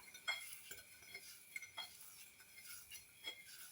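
Garlic mixture for lechon belly is stirred in a bowl with a utensil, producing faint, soft scraping and light clinks in an irregular rhythm, close but quiet.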